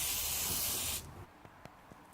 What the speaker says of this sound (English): just put some WD-40 on